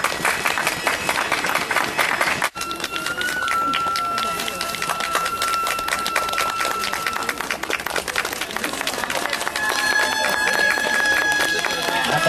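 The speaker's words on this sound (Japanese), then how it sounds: "皆様、大きな拍手をお願いいたします。" Guests at a snow-lantern wedding for a Chinese couple applaud with a rapid, steady patter of many hands, and a few voices carry over the clapping and a bright ringing tone.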